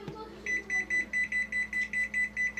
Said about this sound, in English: And I'm going to set my timer.